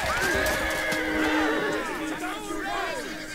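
Horses neigh loudly and repeatedly in a Total War: Rome 2 cavalry battle, shrill whinnies overlapping each other above a constant din of fighting and crowd chatter.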